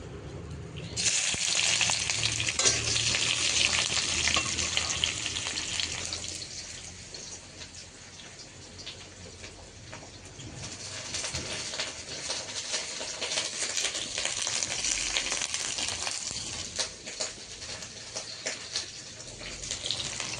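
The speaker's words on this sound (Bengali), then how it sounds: "অনেকটাই তেল গরম হয়ে গিয়েছে ওই জন্য দেওয়ার সাথে সাথে পুড়ে যাচ্ছে তো আমি এখন পেঁয়াজ দিয়ে দেই" Onions are dropped into very hot oil with dried chilli and cumin in a home kitchen, setting off a loud, close, continuous sizzle and crackle. The sizzle eases somewhat midway, then swells again and carries on alone without talking.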